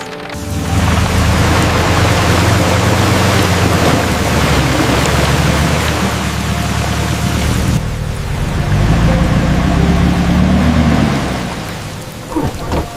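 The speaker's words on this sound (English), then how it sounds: "The rain makes people sleepy." Steady heavy rain pours outside a car during family camping on a rainy night, a dense continuous hiss with low rumbling that may be distant thunder, fading near the end.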